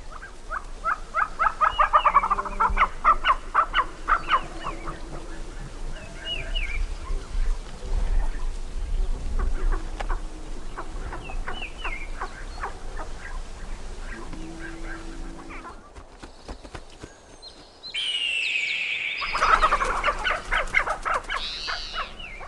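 Tibetan snowcocks in a Tibetan forest give repeated loud clucking and cackling calls in bursts, with a brief lull before a final, fuller round of calling.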